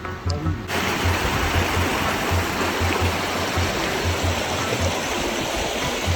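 Flowing stream water near Taghan waterfall in Buner runs in a steady, close, broadband rush that starts abruptly after a quiet opening moment and continues evenly to the end.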